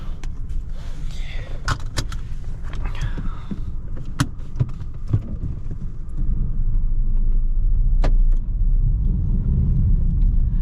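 A 2022 Peugeot 208 1.2 PureTech 75 engine rumbles as the car pulls away, with a few clicks and light rattles inside the cabin, and the engine swelling louder partway through.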